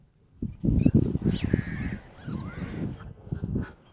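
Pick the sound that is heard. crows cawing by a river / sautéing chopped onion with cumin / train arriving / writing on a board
crows cawing by a river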